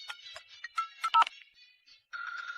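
Telephone keypad tones and electronic phone beeps, a quick run of short bright tones followed by a steadier ringing tone, clear and close with no talk over them.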